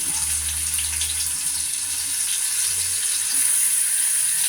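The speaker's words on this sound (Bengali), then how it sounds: "প্রথমে দিলাম আমি পেঁয়াজ কুচি" Chopped onion frying in mustard oil in a pan, a steady moderate hiss of sizzling with light crackle and a low hum underneath, no talking.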